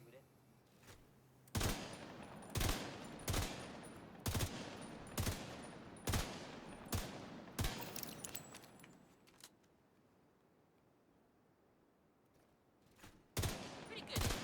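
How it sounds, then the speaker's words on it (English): Gunfire rings out in a series of about ten sharp shots, evenly spaced at first and then thinning out, followed by a quiet gap before two final shots near the end, loud and close with faint voices between. "That's some of the best shooting I've ever seen."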